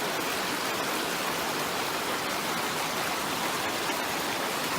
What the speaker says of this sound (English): Just a little creek running into the Huon, so we're only 30-40 metres from the Huon River.